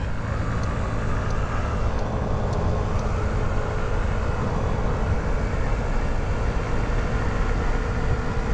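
Honda Ruckus scooter engine running after being given gas, a loud continuous drone with steady low rumble, heard up close and alone for several seconds.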